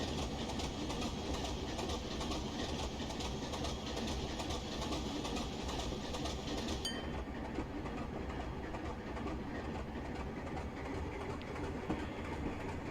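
Class 24 diesel locomotive in Train Simulator Classic on the Inverness to Dingwall line, a low steady engine drone with rolling wheel noise and faint clickety-clack, heard alone with no talk.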